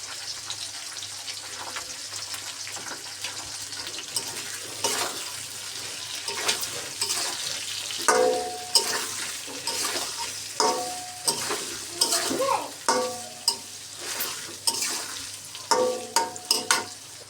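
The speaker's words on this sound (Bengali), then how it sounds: "জিরা বাটা দিয়ে একটু নেড়ে চেড়ে নিলাম, হালকা একটু ভাজা করে নিলাম" Ground cumin paste is stirred and lightly fried in a pan for a hilsa fish curry, its soft sizzle joined by scraping spatula strokes that grow louder and more rhythmic toward the end.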